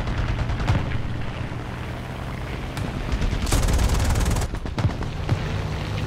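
The aircraft guns of a He 112 V-5 fighter fire during a ground-attack sortie in War Thunder. Sustained rattling bursts of gunfire sound over a steady engine drone, growing denser for a couple of seconds near the middle.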